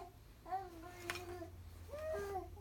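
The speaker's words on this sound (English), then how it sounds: "that's my 3-month-old in the background making noise" A 3-month-old baby babbling in the background: two faint, distant bursts of cooing with rising and falling pitch, heard over a low hum.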